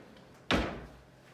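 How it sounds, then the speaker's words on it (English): A drawer in a dental lab is pulled open with a single quick sliding thud, fairly close and loud, then fades into quiet room tone. "I'm going to open this drawer and get a piece of"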